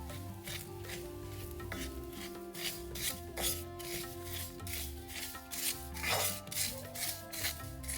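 Grated coconut and curry leaves dry-roast in a pan without oil, a soft rhythmic scraping and rustle of stirring repeating steadily under quiet background music.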